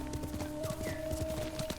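Horse named Nobu in the video game Ghost of Tsushima, trotting with a quick rhythmic clip-clop of hooves, close and steady over a faint tonal game background.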